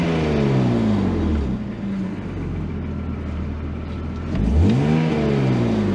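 An old, sluggish car engine revs under the throttle, with two rising and falling revving sweeps, one at the start and another near the end, loud and close with no talk.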